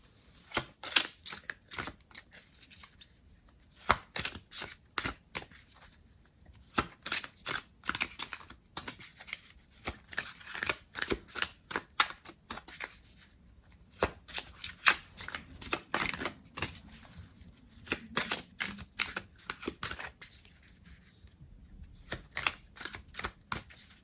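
Tarot cards are shuffled by hand in quick bursts of crisp riffling and slapping, dense rapid clicks coming in clusters with short pauses, close and fairly loud with no talking.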